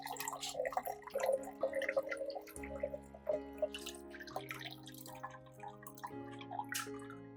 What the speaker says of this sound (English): Now you just need to strain out the peels through a sieve, keeping the clear liquid for use.